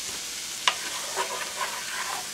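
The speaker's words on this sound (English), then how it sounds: "Give this a good stir." Chicken pieces stirred in a pan with a little olive oil, heard as a steady, moderate sizzle with one sharp tap of a utensil and a few soft scrapes, close by and with no one talking.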